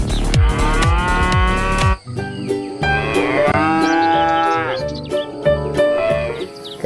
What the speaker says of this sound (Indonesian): Muncul seekor sapi perah.